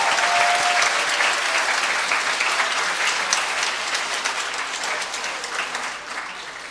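A seminary audience at a Won Buddhist Sunday service gives hearty applause, with dense, sustained clapping that slowly tapers off toward the end.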